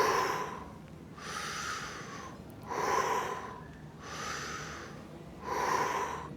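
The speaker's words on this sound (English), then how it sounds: "So slow inhale." Slow, deep breaths during a freediving chest stretch: soft airy inhales and exhales alternate in a steady rhythm, close and quiet, with no talking.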